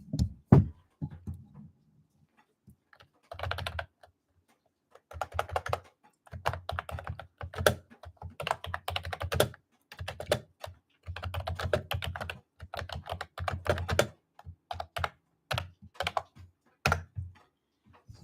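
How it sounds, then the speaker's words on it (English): Computer keyboard typing in irregular bursts of clicky keystrokes, close and fairly quiet, with brief pauses between runs and no talking. "if you could hear me typing on that keyboard, that is a form of ASMR"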